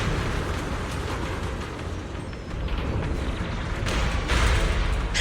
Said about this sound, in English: The explosions are becoming more frequent.